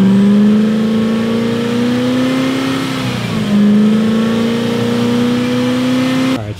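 Koenigsegg hypercar with fully exposed carbon fiber bodywork and a 250 mph top speed, its engine revving loudly and steadily in two long rising pulls with a brief dip between, ending abruptly.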